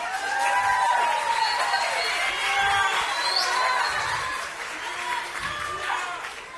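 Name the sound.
audience applause for a choir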